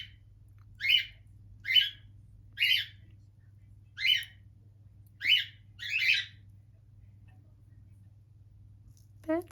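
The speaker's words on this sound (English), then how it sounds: "Birds seem happy today, don't they?" Several bird calls sound outdoors at a moderate distance, about seven short chirping bursts spaced a second or so apart over a faint low hum.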